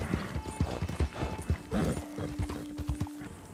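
Horse hooves in Red Dead Redemption 2 clip-clopping in a steady, close, rhythmic gait, with a brief whinny and game ambience, and no talking.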